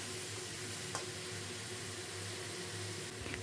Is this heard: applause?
no